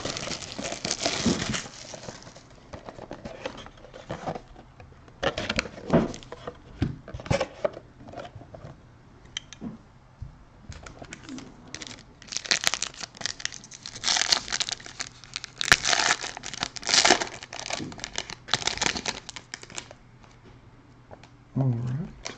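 A 2016 Donruss Signature Series football trading card box is cut open and unwrapped, with bursts of crinkling plastic, tearing and scissor snips in irregular clusters, close and fairly quiet, alternating with brief pauses.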